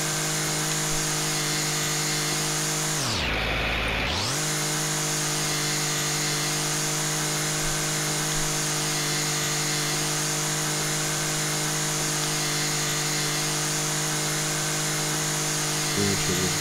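A steady motor drone from a lawn mower cutting grass in the House Flipper garden game runs loud and continuous for over fifteen seconds. It dips briefly near the start, and there is no talk.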